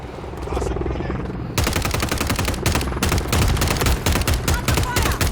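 Heavy automatic gunfire in Call of Duty Modern Warfare 3 blasts in a loud, continuous burst of rapid shots that grows denser partway through, with battle noise underneath.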